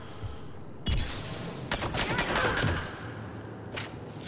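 Bursts of gunfire in the Mass Effect video game, loud, rapid volleys mixed with thuds and impacts, arriving in several clusters over a continuous game soundscape.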